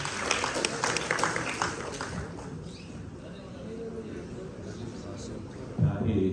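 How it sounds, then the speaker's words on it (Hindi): Audience applause for the actor playing Mirza Ghalib at a staged musical play in Mysuru, a brisk wave of clapping that fades into quieter murmur, with a brief thump near the end. "ज़फ़र मुहिउद्दीन के लिए एक बार फिर ज़ोरदार तालियां।"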